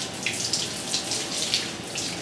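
Soapy water is wrung by hand out of hand-washed clothes, running and splashing steadily into a basin with small irregular drips and squelches, close and continuous without talking.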